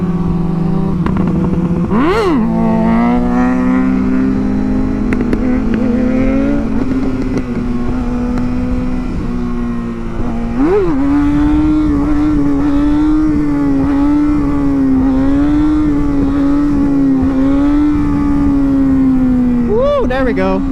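A 2019 Kawasaki ZX-6R engine revs and accelerates through the gears, its loud high-pitched whine climbing and dropping with each shift, close to the microphone with wind rush and occasional exclamations over it.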